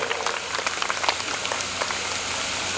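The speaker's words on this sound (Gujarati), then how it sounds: "તો એના માટે આપણે દિલથી તાળીયા થઈ જાય" Dense, steady applause from a crowd, a continuous patter of many hands clapping at once without any voices over it.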